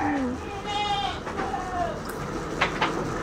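Goats kept for aqiqah sacrifice bleat several times in a pen, wavering calls of varying pitch at close range over a noisy background.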